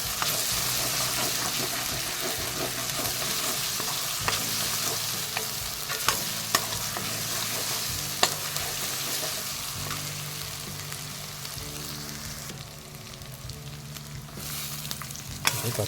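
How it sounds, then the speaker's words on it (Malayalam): Ginger and garlic sizzle in hot oil in a pan while being stirred, a continuous frying hiss with scattered clicks and scrapes of the spoon, no talking. "ഇഞ്ചിയുടെയും വെളുത്തുള്ളിയുടെയും ഒന്ന് ഒരു മണം മാറി വരാൻ വേണ്ടി നന്നായിട്ട് മൂപ്പിച്ച് കൊടുക്കുക."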